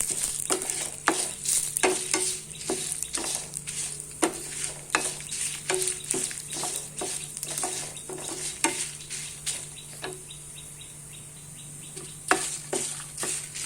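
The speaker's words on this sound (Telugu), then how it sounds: "చింతపండు, వేసుకొనేసి మీడియం ఫ్లేమ్లో బాగా వేయించుకోవాలి." Dried red chillies and tamarind are dry-roasted in a pan over a medium flame, with a faint sizzle under repeated scraping and clinking stirs of a spatula against the metal pan.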